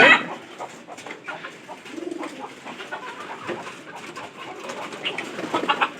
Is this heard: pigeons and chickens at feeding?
yes